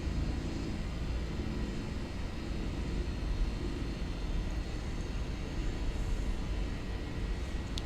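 A Fenix airliner in a flight simulator roars down the runway on its takeoff roll, a steady, loud, broadband jet engine rumble that stays even and constant throughout with no talking.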